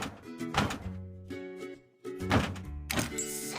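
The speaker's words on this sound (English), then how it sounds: "Take apart the broken parts from the engine." Hollow thunks and clunks from parts being pulled off an engine in a truck and car repair video game, in two bursts over a light melodic game-music background.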